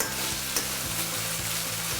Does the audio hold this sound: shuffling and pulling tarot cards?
no